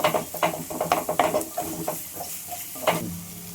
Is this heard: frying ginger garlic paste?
yes